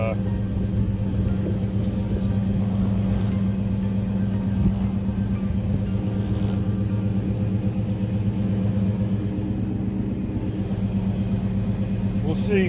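Steady low rumble of an idling 1986 Ford Mustang LX Fox-body V8 that is burning oil, loud and continuous throughout, with someone talking over it.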